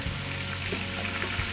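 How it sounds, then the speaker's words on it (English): Steady, dense sizzling of chicken frying in hot fat in a pan, continuous and close, with faint crackles and pops throughout. "this is the sound of much cleaner fat"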